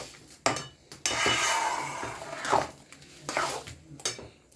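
Coconut filling for pati shapta being stirred with sugar in a pan, with clinks and scrapes of a utensil against metal in several bursts of varying loudness, close by and with no voices.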